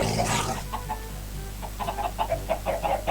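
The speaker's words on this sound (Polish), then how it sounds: "Kolejny mob to zielony kurczak." Green chicken creature in a Minecraft mod, clucking in a quick series of short, fairly close bird calls that grow denser toward the end, over a steady low hum.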